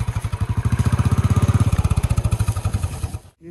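A motorcycle rides carefully down a steep hill road that is strewn with fallen leaves. Its engine chugs in a loud, close, steady rhythm of rapid pulses, then drops away at the end.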